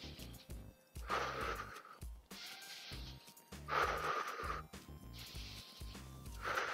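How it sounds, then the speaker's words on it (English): Slow, deep breaths in through the nose and out through the mouth, close to a microphone, each breath a long airy rush in a steady, repeating rhythm. "I'm just breathing nice deep breaths in through my nose, getting good oxygen out through my mouth."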